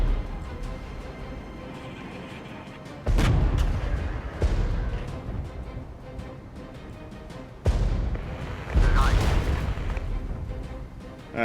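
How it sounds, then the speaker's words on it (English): Mortars fire in the real-time strategy video game WARNO, giving a few loud booming bursts separated by quieter rumbling battlefield noise, fairly close and without talk. "We got these mortars start firing on Hill 90 here."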